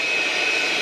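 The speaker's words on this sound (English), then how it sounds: "we're using the little blower today" A small battery-powered Ryobi blower runs in a steady, loud high-pitched whine with an airy rush, unbroken for under a second.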